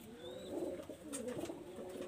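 Several pigeons kept as a breeding pair in a Bangladeshi loft give soft, continuous throaty coos nearby, a low layered burbling with a brief higher chirp partway through and no speech.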